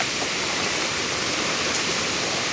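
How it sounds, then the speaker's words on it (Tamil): Floodwater rushes in a loud, steady, dense roar with no breaks, close by. "எல்லாம் தண்ணி பாய்ஞ்சு கொண்டு இருக்குது"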